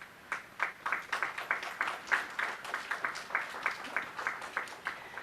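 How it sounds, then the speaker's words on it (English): Audience at a kindergarten graduation ceremony clapping for the young graduates, a brisk and dense patter of hands that stays moderately loud and even for several seconds without speech. "I think they deserve a big round of applause."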